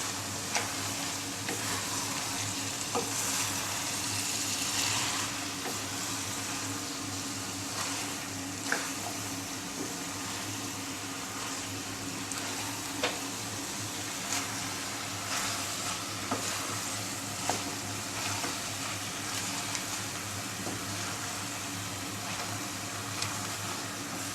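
Capsicum and potato pieces fry in a pan and are stirred, giving a steady close sizzle with occasional light scrapes and taps of the spatula, and no one speaking.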